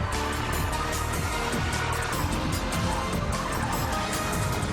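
Two BMW 535 saloons, one diesel 535d and one petrol 535i, slide through a corner with a loud, continuous engine roar and tyre scrabble, close and unbroken with no talk.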